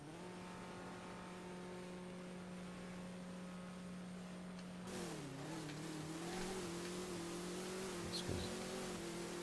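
A car in a No Limit 2 drag racing video game idles with a steady hum, then launches and accelerates, the engine note rising and growling on through a slow first gear.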